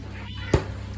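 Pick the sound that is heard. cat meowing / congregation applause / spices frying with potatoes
cat meowing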